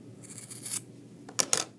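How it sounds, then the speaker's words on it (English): Scissors trim excess cord from a paracord survival bracelet: a faint rub of handling, then two quick crisp snips close by, with no talking. "need your trusty scissors, and I'm going to trim that piece off"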